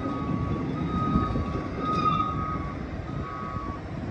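A truck working at a port while a machine is loaded onto it gives off a steady engine rumble, with repeated high reversing beeps sounding over it throughout.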